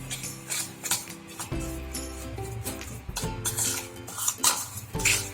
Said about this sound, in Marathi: हे मिश्रण आपण व्यवस्थित पद्धतीनं मिक्स करून घेऊन एकजीव